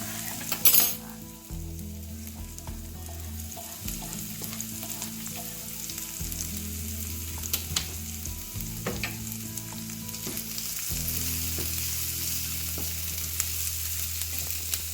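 Spices sizzle and crackle steadily in hot oil while tempering for lime rice, a continuous frying hiss with a few stirring scrapes and a brief louder clatter near the start.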